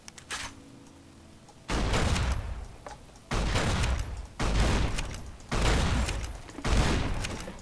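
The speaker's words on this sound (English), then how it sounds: "High explosive rounds." High explosive rounds fire in the game Warhammer 40k: New Vegas: five heavy booming blasts, each sustained about a second, spaced roughly a second apart, loud and close.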